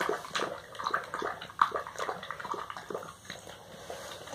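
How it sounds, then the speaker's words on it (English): Basset hound lapping water from a bowl at close range, a quick irregular series of wet laps and small splashes, fairly quiet. "now you're drinking your water"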